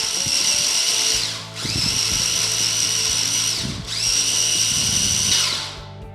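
A kitchen grinder blending a brown sugar mixture whirs loudly in three long, steady bursts, each winding down briefly before the motor starts again, with no talking over it.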